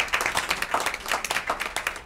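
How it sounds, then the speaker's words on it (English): Applause for a student at a school committee meeting: a small group claps in a quick, uneven patter that stays steady throughout, close and moderately loud, with no voices. "So Harlan, we applaud you."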